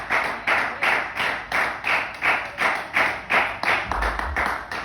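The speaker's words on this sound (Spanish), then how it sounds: "¿Por qué no damos un fuerte aplauso a nuestro Señor Jesucristo?" A church congregation claps in unison during a Spanish-language sermon, a steady rhythmic beat of roughly two claps per second, each one a sharp burst that decays quickly, with a low thump near the end.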